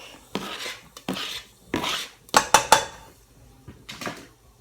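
Garlic goes into a pan of softened onions for a vegetarian Malaysian curry: a series of close, sharp clinks and scrapes of a utensil against the pan, clustered in quick bursts with short quiet gaps.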